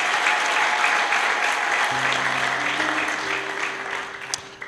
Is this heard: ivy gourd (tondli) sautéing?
no